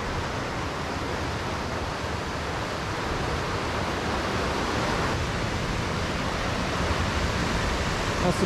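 A waterfall by a rough-sea shoreline along a walking trail gives off a dense, steady roar of rushing water that stays constant throughout, with no voices.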